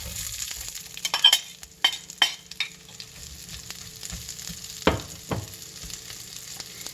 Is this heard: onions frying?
yes